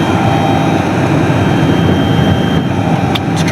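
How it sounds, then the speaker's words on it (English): Strong blizzard wind blowing snow off a house, a loud steady roaring rush of wind that fills the whole clip, with a few faint higher sounds near the end. "it's just the winds that make it a blizzard"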